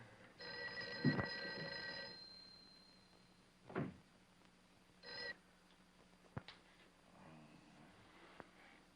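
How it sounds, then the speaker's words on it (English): An old-fashioned telephone bell rings unanswered in a 1959 film scene, one long ring burst followed by a shorter one and a brief third, with faint thuds and quiet room noise between rings and no speech. "Mary, see if you can get Jan on the phone."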